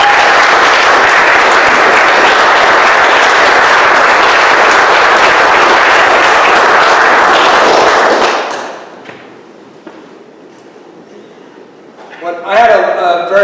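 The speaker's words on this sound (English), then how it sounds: "I think a huge round of applause for Paul." Huge round of audience applause at a poetry festival, dense and loud for about eight seconds before fading into quiet room noise, with a brief rustle at the end.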